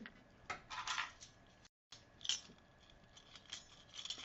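A bunch of keys jangling close up, several quick light metallic rattles and clinks with a short silent gap midway, no talking.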